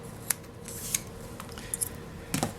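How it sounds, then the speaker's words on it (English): Scissors trim a straight edge on headband material for book binding, giving a few faint, crisp snips spaced irregularly, close up in a quiet room. "I'm going to take the headband material. I'm going to trim a straight edge."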